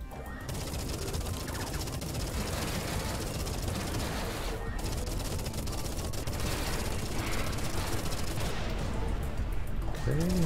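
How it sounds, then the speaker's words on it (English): Auto cannon firing in the space shooter Everspace 2, a dense, continuous barrage of rapid shots and crashing impacts that stays loud and steady for the whole stretch, with no pauses. "What, auto cannon?"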